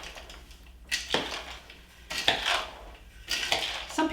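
Pasta salad with peas being tossed in a large bowl, giving three separate bursts of scraping and clattering, each about a second long, with quiet pauses in between.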